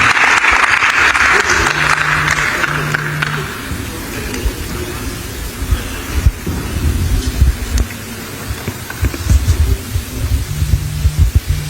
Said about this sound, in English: A round of applause for you, please.